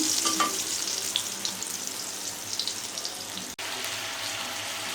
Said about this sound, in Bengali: ওর জন্য বেগুন ভাজা করতেছি